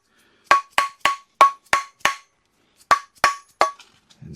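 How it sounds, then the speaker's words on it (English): Sharp metallic hammer blows knock a cap loose from a press-fitted bearing on a BMW e36, about ten ringing strikes in an uneven rhythm with a short gap midway, close and alone. "Sometimes what I like to do is pick it up by the cap and hammer it around like this."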